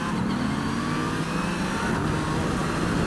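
A 2019 Yamaha Niken GT three-wheeled motorcycle engine runs in a steady, loud drone with a low rumble throughout, mixed with road and wind noise and no clear rev peaks.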